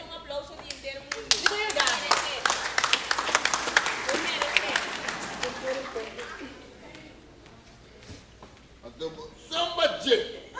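An audience at a Curaçao comedy show bursts into loud, close applause of many hands, which fades after several seconds as voices talk, then flares up again briefly near the end.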